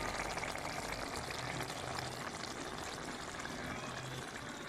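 Chicken kofta curry bubbles in a pan, a constant broad hiss and simmering fizz at moderate level with no clear pauses or voices.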